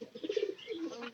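Pigeon cooing close by, a soft low throaty warble repeated a few times in a short burst with faint chirps, no talk.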